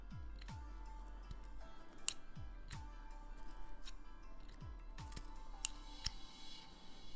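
Scissors snip during a craft session making a fluffy stuffed piece, giving about six sharp, quiet clicks spread irregularly over a soft background hum.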